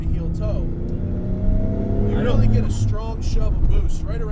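A Nissan 300ZX twin-turbo with stock original turbos, making about 500 wheel horsepower, pulls hard under boost. The engine note rises and swells beneath someone talking over it inside the car.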